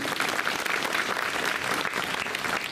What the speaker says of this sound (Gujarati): એમને સંસ્થા વતી તાળીઓથી વધાવી